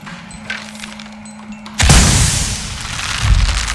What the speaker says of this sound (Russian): И сейчас мы устраиваем взрыв.